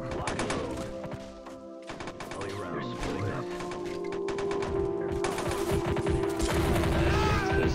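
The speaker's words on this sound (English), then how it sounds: "Let's see if we can actually call this artillery in on their position." An artillery barrage in the Army Men of War battle game: dense, continuous crashing impacts and rattling fire, layered and loud throughout, building slightly toward the end with no pause.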